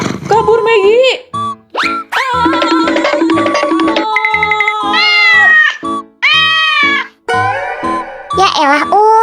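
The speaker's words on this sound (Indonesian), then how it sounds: "Cuma kucing kali Pak Ul." A cat in the Sakura School Simulator video game meows again and again in close, loud, drawn-out cries with rising and falling pitch, separated by short gaps.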